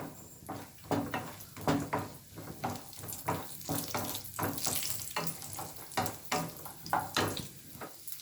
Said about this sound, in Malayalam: ചെറിയ ചെറിയ പീസുകളാക്കി നെയ്യിൽ വറുത്തിട്ട്